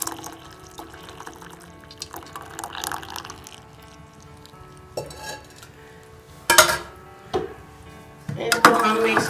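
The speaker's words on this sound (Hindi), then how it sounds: "तो अब हम कहवे को छान के दूध में शामिल कर लेंगे।" Jaggery kahwa tea strained into milk, with a pouring trickle, faint drips and clinks of a strainer and utensils against a pot, growing louder toward the end.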